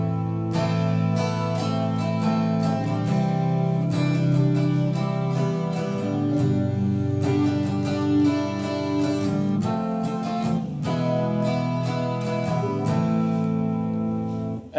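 Strummed guitar chords played in a slow, repeating rhythmic pattern, with regular strokes and brief pauses between bars, close and clear without talking.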